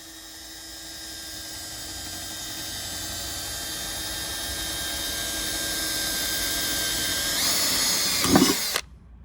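A power drill bores through the steel door of a school bus being converted, making room for a deadbolt lock. The motor whine climbs steadily as it works, then ends in a short grinding burst before stopping abruptly.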